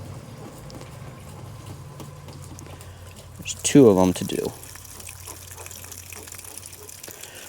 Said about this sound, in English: that will let the low point of the hot and cold water drain out